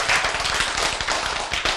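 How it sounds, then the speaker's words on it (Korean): An audience in a Korean healthy-eating lecture gives a loud, dense burst of applause, with many hands clapping steadily and close. "박수."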